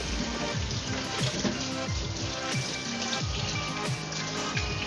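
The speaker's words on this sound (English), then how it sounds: "Let's wash our bok choy guys under running water." Bok choy leaves rinsed under a running kitchen tap, a steady splashing water stream with irregular drips and knocks of leaves being handled, close and continuous.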